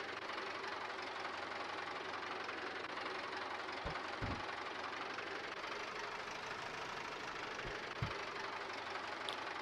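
A tractor fitted with an oversized front loader attachment runs steadily in Farming Simulator 22, its low, even engine drone continuing throughout with a few brief knocks near the middle.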